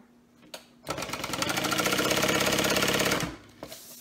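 A sewing machine runs a fast, even burst of top stitching on a small mini NCW project, starting after a brief pause, holding steady for a few seconds, then stopping, loud and close.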